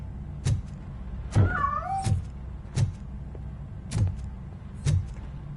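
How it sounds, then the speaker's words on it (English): A cat meowing in the video game Robocop Rogue City, hidden inside a piano. One short, rising and falling meow is heard between regular heavy footstep thuds. "That cat must be hiding inside."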